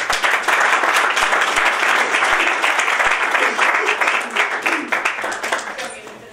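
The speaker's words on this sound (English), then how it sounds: "Could we give them a round of applause?" Loud, sustained applause from an audience, dense clapping filling the room and gradually thinning toward the end.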